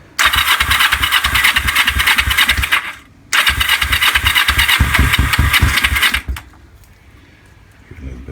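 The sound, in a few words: bobber motorcycle engine starting and running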